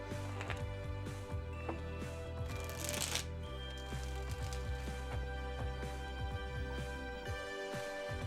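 Tarot cards being shuffled repeatedly up close, with rapid riffling and soft slaps in a steady run, no talking.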